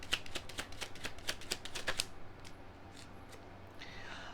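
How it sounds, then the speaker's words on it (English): A deck of tarot cards is shuffled up close, producing a rapid series of crisp riffling snaps that fade into a few softer flicks and a light rustle near the end. "Give me one more energy card of Libra's person towards Libra."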